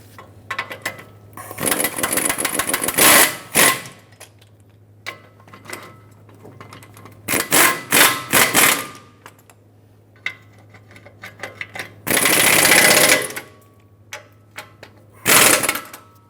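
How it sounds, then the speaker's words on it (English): Impact wrench torquing brake caliper bracket bolts on a 2003-2009 Dodge Ram 2500, several loud rattling bursts of a second or two separated by quiet pauses, close up in a garage. "All right, both of those are torqued."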